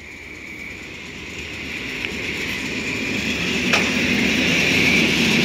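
A Regio regional electric passenger train passes near Strażów, a steady rumble and rolling hiss that grow louder as it approaches, with faint wheel squeal and brief clicks.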